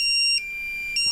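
Two high electronic beeps from a pore vacuum device, one long steady tone and then another starting after a short gap, sharp and close.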